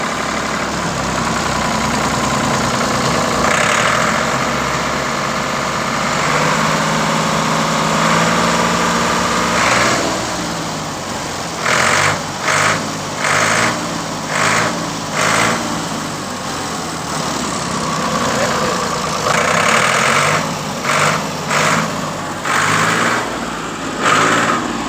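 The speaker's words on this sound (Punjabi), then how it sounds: "ਆ ਜਾਓ ਆਵਾਜ਼ ਸੁਣ ਲਿਓ ਕੀ ਰੇਸ ਵਿੱਚ ਆਵਾਜ਼ ਦਿੰਦਾ ਟਰੈਕਟਰ" Ford 4610 tractor engine from 1987, running steadily with a low rumble, then revved in a series of short bursts of rising and falling engine speed, close by and alone.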